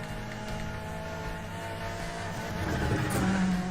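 Car engine racing in the Need for Speed: The Run video game, a sustained, steady motor drone with rising pitch sweeps as the car accelerates uphill, close and moderately loud with no talk over it.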